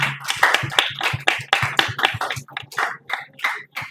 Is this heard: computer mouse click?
no